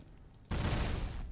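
Ship cannons fire in the Space Wars video game, a sudden burst of dense, sustained rapid fire that starts abruptly and continues loudly for nearly a second.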